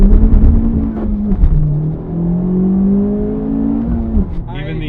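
A 2017 Honda Civic Type R accelerates hard from a standstill, its engine note climbing steadily and loudly for several seconds before a shift, with a rising whine near the end.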